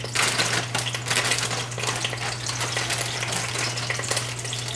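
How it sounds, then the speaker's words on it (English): Ox heart meat sizzles and spits as it browns in hot oil in a pot, a dense, steady crackle close by with no talking. "So let's go ahead and throw our meat in."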